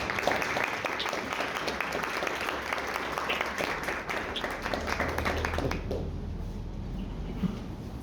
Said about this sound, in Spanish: Recibimos con un caluroso aplauso al Padre Gonzalo Llanos.